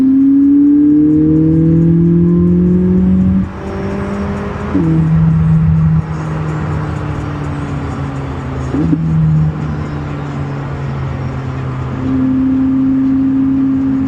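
McLaren GT race cars in a GT World Challenge America event run past on the track, engines whining and revving loudly, with pitch sweeping up and down as cars accelerate, shift and pass, and several distinct passes over the span.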